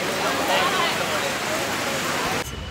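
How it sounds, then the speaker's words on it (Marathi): Heavy rain pouring at night outside a goddess temple during a pilgrimage, a dense, loud, steady hiss of falling water that eases slightly near the end. "पाऊस एवढा जोरात आला की आम्हाला थांबावं लागतं इथे."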